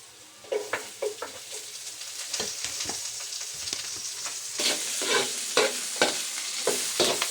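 Chopped onion sizzling in a frying pan, a bright continuous hiss broken by sharp scrapes and stirring clatter, close and fairly loud with no talking.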